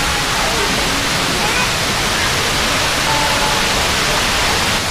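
Balagbag Falls pours in a loud, steady broadband roar of heavy falling water, close and unbroken throughout, with voices faintly mixed in beneath the rush.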